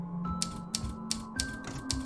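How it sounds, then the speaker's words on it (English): Typewriter sound effect in the game By Moonlight: a run of sharp, evenly spaced mechanical clacks over a steady tonal background, with no speech. "Did anyone else hear the typewriter"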